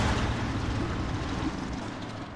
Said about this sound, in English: So the plane flies over